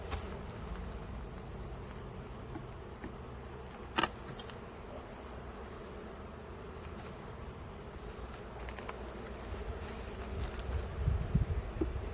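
A dense, continuous hum of many honey bees buzzing close by in an open hive, steady and low with a single brief click partway through.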